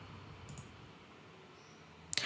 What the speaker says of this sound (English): So let me just click on sign in.